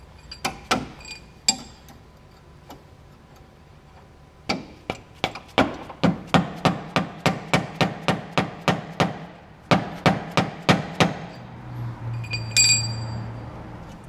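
Soft-faced hammer tapping on a front strut of an Ford Fairmont during strut replacement, a series of sharp, evenly spaced knocks in two runs, fairly close and distinct, with a brief metallic clink near the end.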